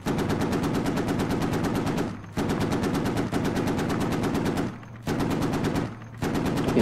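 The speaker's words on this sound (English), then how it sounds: "I can hear like, the rattling of the bullets" Rapid automatic gunfire in the Squad video game rattles in long, loud, dense bursts with a few brief gaps, sounding close and continuous, with no talk over it.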